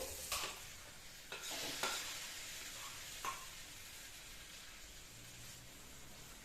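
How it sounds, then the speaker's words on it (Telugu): Gongura chutney being stirred with onions in a hot pan, quiet spoon scrapes and soft swishing strokes at an irregular pace over a faint background hiss, close by. "ఇప్పుడు స్టవ్ ఆఫ్ చేసేసి ఇందులో పచ్చడి వేసుకొని కలుపుకోవాలి."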